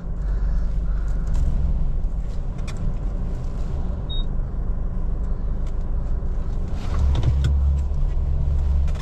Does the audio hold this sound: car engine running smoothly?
yes